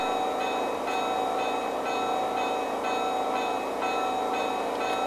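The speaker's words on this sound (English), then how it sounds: "And here's the bell." A Lionel JLC GG1 model train bell rings in a steady, rapid repeating clang over a constant background hum.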